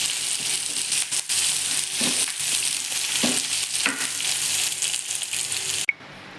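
Spices sputtering in hot oil while being tempered for sambar, a bright, steady crackling sizzle with a few soft stirring scrapes, close and continuous until it cuts off near the end.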